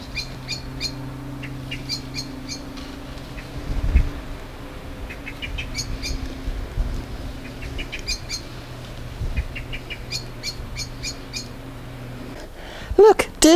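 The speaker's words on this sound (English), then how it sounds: "I don't speak blackbird." A blackbird sings in a windy garden, repeated bursts of fluty, chirping phrases over a low steady hum, with a brief thump and some clattering near the end.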